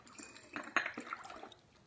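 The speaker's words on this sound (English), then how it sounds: "all we're going to do is top this with water." About 8 ounces of water poured into a bottle, a quiet, close trickle and splash with a few faint clinks, lasting under two seconds with no talking.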